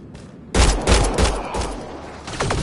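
Gunshots ring out in a rapid, loud, close volley of sharp cracks, with several shots following in quick succession and no talk over them.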